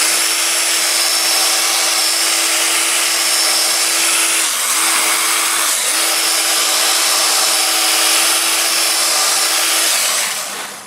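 A fine Scotch-Brite pad is pressed against myrtle wood spinning on a lathe, making a loud, steady hissing whir with two brief dips in the middle before fading at the end; no one speaks.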